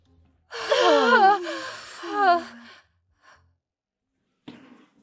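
Girls gasp for breath after holding it: a loud, voiced intake rising into strained, sighing exhales close up, followed by a faint breath and a short sharp gasp near the end.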